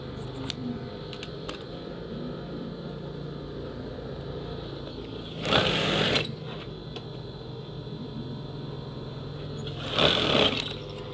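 A sewing machine stitches curtain fabric for an eyelet curtain with a steady, close mechanical drone, rising twice into short louder bursts of faster running; no talking.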